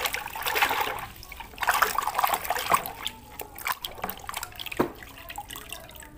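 Water trickles and splashes as toys are washed in muddy water, with irregular drips and pours at a moderate, close level.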